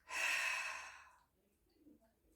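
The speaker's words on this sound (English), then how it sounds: "And then a hard exhale through your mouth." A hard exhale through the mouth during gentle chair yoga: one breathy, airy rush of breath that fades out over about a second, followed by near silence.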